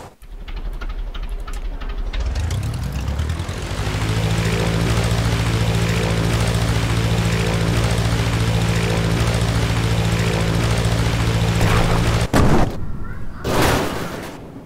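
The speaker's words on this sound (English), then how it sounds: "It's a Japan aircraft." Propeller engine drone of a Japanese aircraft in the Brick Rigs video game, spinning up after two seconds into a loud, continuous roar before cutting off abruptly near the end.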